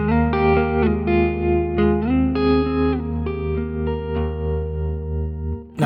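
An electric guitar plays sustained chords through a Line 6 Helix with tremolo, EQ, an LA Studio compressor and atmospheric reverb, the notes shifting over a steady low drone and ringing out alone.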